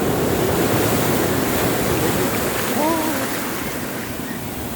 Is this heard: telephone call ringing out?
no